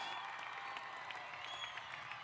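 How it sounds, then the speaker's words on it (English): Audience applause fills a graduation ceremony at Nogales High School, a steady dense patter of many hands clapping throughout, moderately distant and without voices rising above it. "You can clap it up for them."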